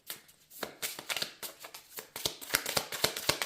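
Tarot cards are shuffled by hand close up, giving a quick run of crisp riffling slaps and flicks in an uneven rhythm, with no voices.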